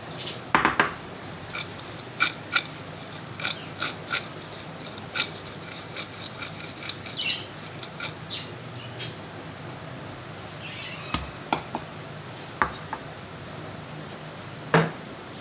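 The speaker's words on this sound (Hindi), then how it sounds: "अब इन आलूओं को इन भिंडियों के साथ मिक्स कर दें।" Spoon clinks and scrapes against a bowl while fried potatoes are tossed together with crispy okra, irregular sharp metallic taps and rattles over a quiet background.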